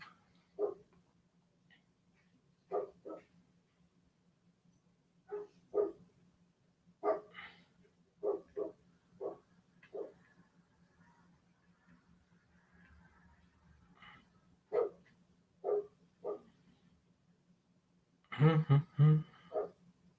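Several dogs bark in short, separate bursts spread across the stretch, moderately near, with quiet gaps and a steady low hum beneath, ending in a louder cluster of barks.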